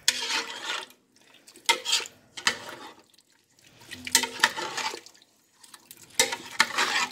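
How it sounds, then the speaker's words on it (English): A spoon stirring homemade vegetable soup in a pot, wet sloshing and scraping strokes in irregular bursts with short quiet gaps, close and fairly soft. "And we're going to stir"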